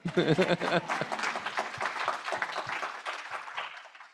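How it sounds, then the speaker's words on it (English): Conference audience at a sustainability leadership event claps at a speaker's invitation, beginning with a brief voice and dense clapping that thins into scattered, individual claps as it fades. "you guys can clap"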